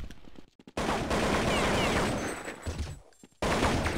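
AK rifles firing in a Counter-Strike match on de_train or de_dust2, with dense bursts of automatic gunfire broken by brief silent gaps, loud and close.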